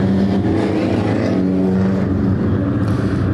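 JV Systems mini stock race cars circle a speedway under a pace lap before the green flag. Several engines drone and rev close by, loud and continuous with a pitch that rises and falls as the cars pass.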